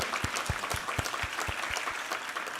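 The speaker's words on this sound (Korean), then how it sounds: "우리 하나님께 감사와 영광의 박수 올려드리겠습니다" Church congregation applauding during a Sunday worship service, a dense steady wash of many hands clapping with a few louder claps rising out of it, continuous and fairly full for a few seconds.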